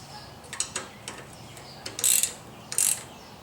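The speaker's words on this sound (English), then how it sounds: "Ratchet wrench, open end on one end, ratchet on the other." Ratchet wrench clicking as it turns a bolt during a wiring harness install, a few short quiet clicks followed by two louder bursts of rapid ratcheting.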